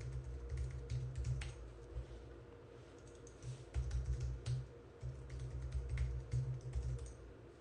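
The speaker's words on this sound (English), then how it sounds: "Apparently I can't type my own password." A password is typed on a computer keyboard at a WordPress login, producing steady runs of close, crisp key clicks with brief pauses between bursts and a faint background hum.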